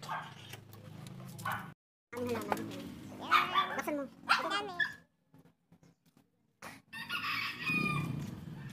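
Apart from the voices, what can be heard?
dog barking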